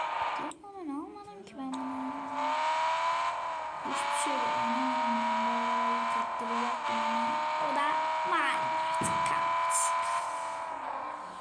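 A car engine in the Car Parking video game drones steadily with shifting revs, and people talk over it throughout.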